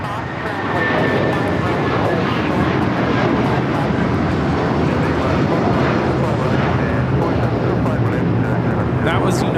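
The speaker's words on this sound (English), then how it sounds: "That was United 1069 taking off to Chicago on the 757-300." A United Boeing 757-300 takes off from LAX runway 25 bound for Chicago, its engines a steady, loud broadband roar that rises quickly in the first second and holds for the rest of the clip.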